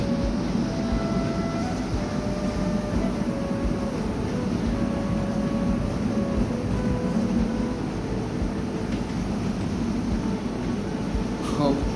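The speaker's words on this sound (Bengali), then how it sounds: "ট্রেন ছুটে চলছে" A passenger train running on the line from Saidpur toward Rajshahi, heard from aboard as a steady, loud low rumble and rattle with tonal hum throughout, a few brief squeals near the end.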